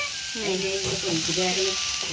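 Radish greens frying in a pan with a steady close sizzle that runs throughout, while voices talk over it.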